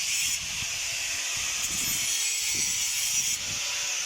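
A steady rasping scrape of a garden hoe blade being sharpened with a file, repeated in short strokes over a constant background hiss.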